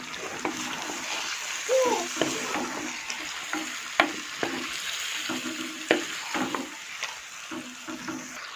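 A pot of chicken, about 1.5 kg, sizzles quietly while it is stirred, with regular scraping strokes and light clunks against the pot, close by and with no talk.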